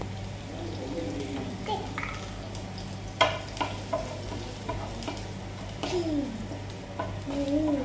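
Cumin seeds and finely chopped garlic fry in hot oil for an aloo paratha breakfast, giving a steady close sizzle with occasional stirring clinks and scrapes, while a voice talks faintly in the background.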